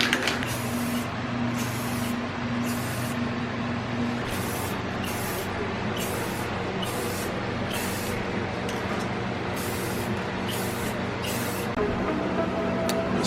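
Spray gun applying the first coat of paint to a 2019 Subaru WRX front lip, a steady close hiss broken by repeated bursts of brighter spraying across the whole stretch.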